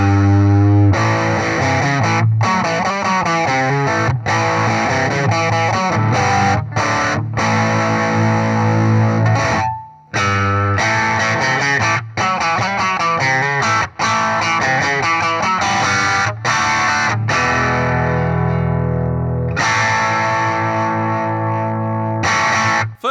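Electric guitar played through heavy distortion with a Harley Benton P-90 pickup, loud and continuous, thick sustained chords and riffs with brief breaks around the middle and a ringing tail at the end, no talking.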